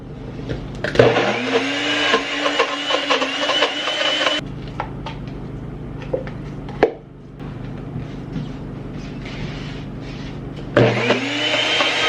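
A Ninja Foodi smoothie bowl maker blends in loud, close bursts, a dense whirring motor roar that runs for several seconds, drops to a softer grinding churn with clunks, then surges again.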